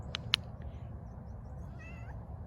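A cat meows softly outdoors in a garden, giving a brief faint call over a low steady background rumble, with no one talking.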